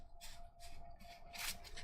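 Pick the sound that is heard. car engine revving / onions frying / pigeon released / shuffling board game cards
shuffling board game cards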